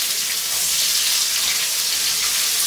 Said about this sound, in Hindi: इसे तकरीबन हम 2 मिनट अच्छे से फ्राई कर लेंगे।